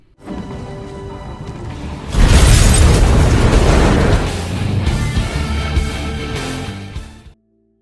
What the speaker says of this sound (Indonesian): Sophie meminta JJ untuk meledakkan tangki tersebut.